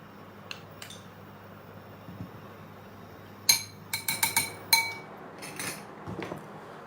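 A spoon stirs grated mozzarella and cream together in a bowl, making sparse, light clinks that bunch into a quick cluster of scrapes and taps in the middle, otherwise quiet.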